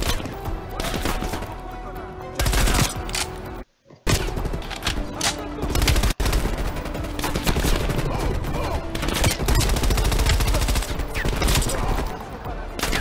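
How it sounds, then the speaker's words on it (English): Gunfire in the video game Call of Duty: Black Ops Cold War, a dense run of loud, close shots and bursts going on for several seconds, broken by one brief drop out, with game voices mixed in underneath. "I've shot this dude like 50 times"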